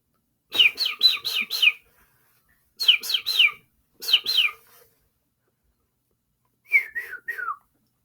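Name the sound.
voice imitating bird tweeting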